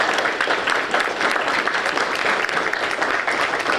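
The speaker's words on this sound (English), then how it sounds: "Can we have a nice round of applause for all of our candidates?" An audience applauds the candidates at a Greenbelt, Maryland city council candidate forum: dense, steady clapping from a room full of people, sustained for several seconds at an even level with no break.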